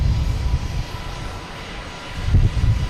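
Airplane taking off overhead at Boston Logan Airport, a deep, rumbling engine roar that dips briefly and then swells louder again, heard close and without talk.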